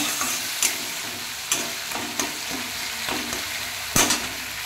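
Ginger fries in a pan for a vegetarian dish, giving a steady close sizzle broken by a few sharp scrapes and taps as it is stirred. No voices are heard.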